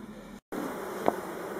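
Honey bees buzzing at a Warré hive during colony work, a steady, close hum broken by a brief dropout and one louder buzz passing near.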